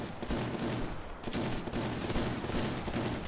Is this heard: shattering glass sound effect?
no